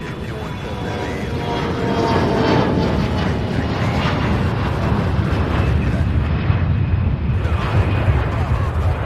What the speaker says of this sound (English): this aircraft here heading to Denver